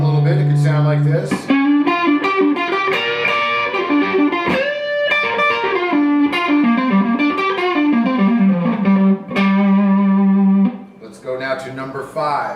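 Electric guitar improvising on a minor pentatonic scale form, a lively run of clear single notes and bends at moderate volume, close and alone, ending on a held note.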